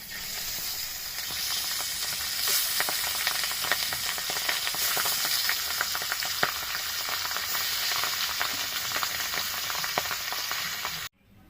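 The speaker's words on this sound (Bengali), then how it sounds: "এবার বাকি মাছগুলো ভেজে নেব।" Boal fish pieces fry in hot oil with a dense, continuous sizzle and scattered crackling pops, close and moderately loud, running unbroken until it cuts off abruptly near the end.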